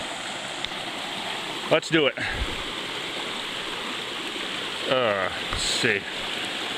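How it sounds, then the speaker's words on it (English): Brook water rushing steadily at a stream crossing on the Gore Mountain Trail in Vermont, a constant close hiss throughout, with someone speaking briefly twice over it. "we have another brook crossing"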